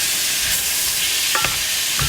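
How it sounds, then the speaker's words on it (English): Pork for asado de puerco sears and browns in a hot pan, a loud, continuous close-up sizzle and hiss with a few light scrapes of stirring. "Kind of sear some of the goodness inside."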